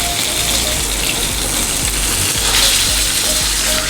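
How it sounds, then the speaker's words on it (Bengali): Tilapia fish frying in a pan of hot oil, a loud, dense, unbroken sizzle that carries from start to finish, with occasional low knocks from the pan. "মাছের যে পাশ কাঁচা থাকবে ওই পাশ এইভাবে উল্টে পাল্টে ভেজে নিতে হবে"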